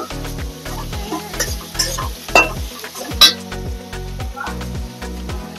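Spice paste hitting hot oil in a frying pan for a vegetarian paneer posto, with a steady loud sizzle, rhythmic stirring scrapes and a few sharp clinks of utensil against pan.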